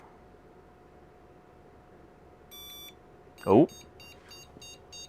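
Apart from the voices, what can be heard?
computer motherboard POST beeps from 486 board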